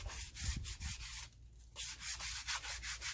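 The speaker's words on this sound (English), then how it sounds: "I got a little bit of old piece of sandpaper here, and I'm just going to rough these up a little bit to break the glaze" Old sandpaper scrubs back and forth over glazed brake shoes on an old fire truck, a quick series of rough rhythmic rasping strokes close by, with one brief pause midway.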